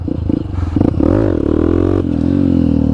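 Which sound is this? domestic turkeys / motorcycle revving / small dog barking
motorcycle revving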